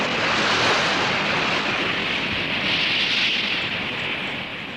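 Surf surges and breaks against a gradually shelving rocky shore where rockhopper penguins land, a loud continuous wash of churning water with no voices.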